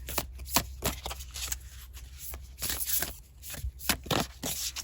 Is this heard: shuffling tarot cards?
yes